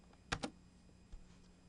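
Two quick, close keystrokes tap on a computer keyboard while a number is entered into CAD software, followed by a faint third click in an otherwise quiet room.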